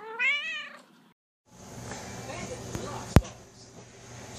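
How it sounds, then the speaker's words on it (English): A pet cat lets out a single clear, rising meow at the start, followed by a pause and then quiet room noise with a sharp click. "say meow"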